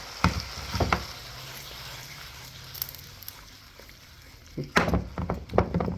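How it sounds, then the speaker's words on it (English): Tomato paste sautés in a pan for a Lebanese okra dish, giving a soft, steady sizzle close by, with brief stirring clatters near the start and again toward the end. "Now, I need this to saute a bit."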